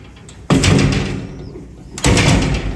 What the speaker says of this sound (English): Close the door because he likes it closed by now.